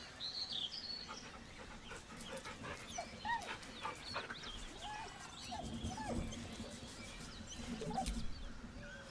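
A dog in the video game Baldur's Gate 3 whimpers nervously, giving soft whines and panting that come and go over a quiet ambient background with faint bird-like chirps.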